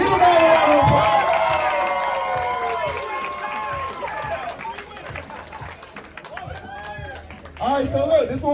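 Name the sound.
crowd applause and cheering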